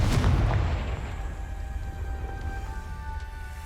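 A Confringo blasting spell explodes in the Hogwarts Legacy video game: one deep boom that hits at once, then rumbles and fades over a few seconds, with no voices over it.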